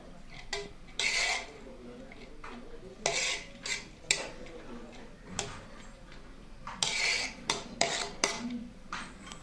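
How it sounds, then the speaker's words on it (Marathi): Cooked rice layered with a spoon into a pot of chicken dum biryani, making a string of close metallic scrapes and clinks against the vessel in irregular bursts, with a person talking over it. "ह्याच्यावर आपण आता टाकणार आहे तांदूळ"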